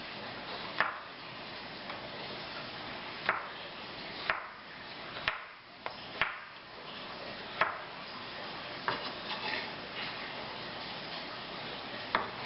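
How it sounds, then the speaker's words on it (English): A knife slicing mushrooms on a cutting board gives sharp, distinct taps at a slow, uneven rhythm, about ten cuts, close and fairly quiet, with no talk. "Discard the end of the mushroom and slice."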